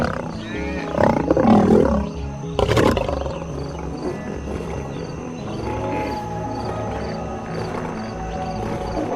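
A wild African lion roaring at night, a deep powerful roar rising loud and close, followed by fading grunting calls over a low outdoor background.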